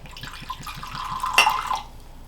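A small measure of Four Roses Small Batch whiskey glugs from the bottle into a glass, a short close gurgling pour that swells briefly and then stops, with no talk.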